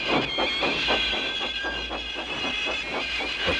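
A Bachmann model steam locomotive, Thomas, chuffs and puffs steadily with a rhythmic hiss of steam and clicking wheels on model track, close and continuous with no talk.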